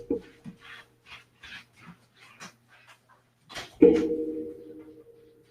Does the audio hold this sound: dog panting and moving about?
yes